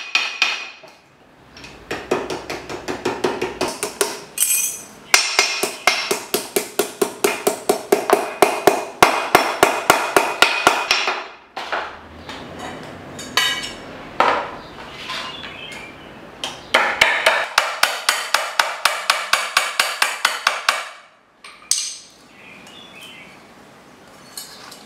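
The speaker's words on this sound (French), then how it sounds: "C'est replier la tôle pour que ce ne soit pas coupant." A tinsmith hammers sheet metal to fold over its sharp edge, long bursts of rapid, ringing metallic blows close by, broken by short pauses and a few isolated strikes near the end.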